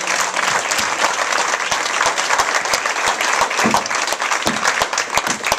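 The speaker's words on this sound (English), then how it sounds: "Let's give a round of applause for the Johnsons for making this all possible for us." At a high school bowling banquet, a crowded room breaks into loud, dense applause for the Johnsons, many hands clapping close and continuously over the whole stretch with no voices on top.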